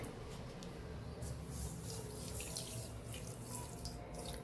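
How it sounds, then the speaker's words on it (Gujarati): Water poured into a bowl of sugar: a steady, continuous stream pouring and splashing, unbroken for several seconds and fairly soft. "તો અડધી વાટકી આપણે પાણી ઉમેરશું ખાંડ ડૂબે એટલું જ પાણી આપણે ઉમેરવાનું છે"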